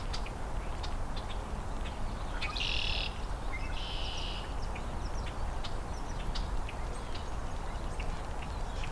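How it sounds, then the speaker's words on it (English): A flock of common grackles gives harsh, squeaky song notes, with scattered sharp chirps and two buzzy raspy bursts over a steady low rumble of background noise. "A lot of Grackles song"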